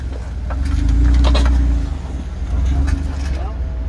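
An off-road vehicle engine rumbles and strains as it crawls over rocks, loud and close, rising and then easing, while people call out over it.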